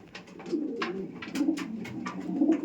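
Madrasi pigeons coo in low, throaty repeated calls, close by and fairly loud, with soft wing and feather rustles and no voices.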